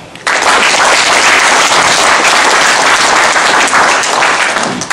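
An audience at a 20th-anniversary gathering bursts into loud, sustained applause after a brief quiet moment, dense clapping that holds steady and stands alone.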